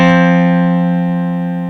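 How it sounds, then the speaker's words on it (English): Two sustained tones sound together, a lower and a higher pitch blended into one steady, buzzy electronic chord that slowly fades. "I'm going to play 2 different pitches,"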